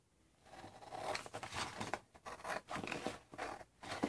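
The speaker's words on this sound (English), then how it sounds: "All right, I'm just going to use my scissors." Scissors snip through a Dollar Tree Paris paper file folder, a close, quiet series of uneven crisp cutting and rustling strokes, with short pauses between cuts.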